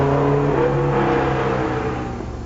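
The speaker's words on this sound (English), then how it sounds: "he's fitted a 165 brake horsepower 2-litre Fiat twin cam" Modified Skoda Rapid fitted with a mid-mounted 165 bhp 2-litre Fiat twin-cam engine, revving hard with a steady, loud mid-pitched drone that eases off slightly at the end.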